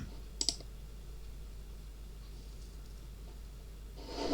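Two quick, crisp mouse clicks land close together near the start while navigating game-engine software, followed by a faint steady room hum and a slight rise in noise at the end.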